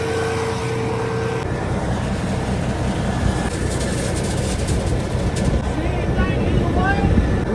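A grain cart auger runs with a faulty, grinding mechanical drone, loud and steady throughout, with a harsh rattle and metallic squeals near the end; people talk over it.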